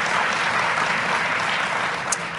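Polite audience applause at an NAACP convention speech by Mitt Romney, a steady wash of many hands clapping in a large hall, continuous and even throughout with no talking over it.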